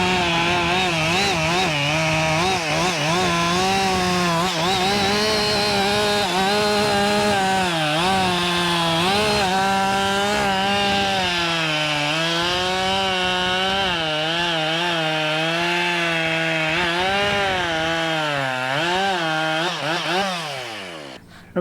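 A sawmill blade cuts through a hemlock log with a loud, continuous whine whose pitch wavers as it bites into the wood, running unbroken for about twenty seconds before easing off at the end.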